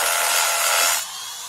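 A Bosch Bulldog rotary hammer in a broadcast advert, giving a loud, harsh, hissing grind that holds steady for about a second, then drops to a quieter level.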